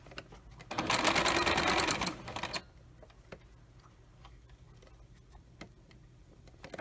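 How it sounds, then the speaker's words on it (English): Close, loud sewing machine stitching fabric randomly for a Snipit roll craft in one steady burst of about two seconds, followed by faint ticks and handling sounds. "Just sewing it randomly."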